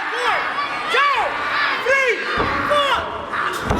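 Arena crowd at a live pro wrestling show cheers and shouts loudly and continuously, with excited whoops and rising voices rolling over each other throughout.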